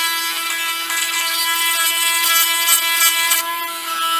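Close, steady whirring buzz of a small rotary tool lightly sanding the joints of a plastic Marvel Legends Deadpool action figure, running continuously with no talk.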